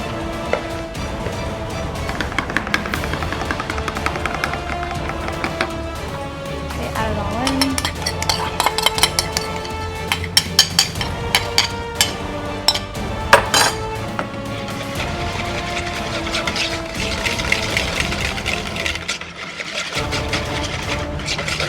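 Bowl of no-bake strawberry yogurt cake filling being stirred by hand, giving steady scraping and clinking of a utensil against the bowl, close and continuous over music-like background sounds, with no talking.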